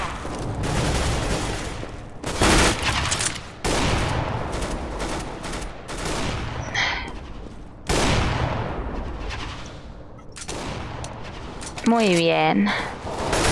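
Nova shotgun blasts in CS:GO on the Assault map, several sharp booming shots spaced across a busy stretch of gameplay noise, with a player talking over the action.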